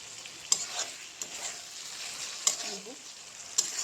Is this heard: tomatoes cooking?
yes